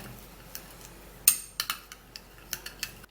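Hair oil mixture stirred in a container, with irregular light clinks and taps of a utensil against the sides over a quiet background.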